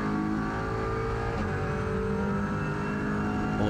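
A 2021 Audi RS3 LMS race car at full throttle on the Autódromo do Estoril circuit, its engine heard from onboard as a loud, continuous rising roar over a short stretch with no voices.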